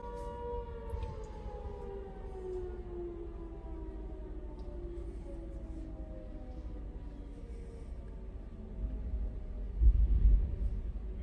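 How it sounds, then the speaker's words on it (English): A distant siren wails in a slow, falling tone over low rumbling background noise, with a thump near the end. "Siren's gone off, first one."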